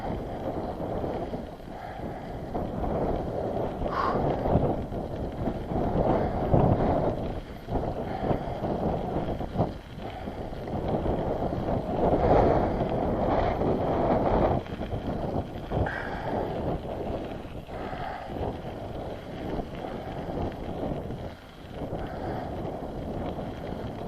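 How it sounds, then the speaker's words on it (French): Strong wind roars steadily across a microphone while road cycling, a loud continuous buffeting rumble with gusting surges and no clear speech over it. "Oh, le vent il est méchant là."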